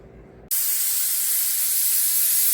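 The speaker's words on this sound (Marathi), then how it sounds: "2 शिट्ट्या झाल्या की घेऊन बाजूला 2 शिट्ट्या करून घेऊ आपण आता" After a brief quiet moment, a loud steady hiss of steam bursts out and continues as a pressure cooker of Indrayani masale bhat releases its whistle.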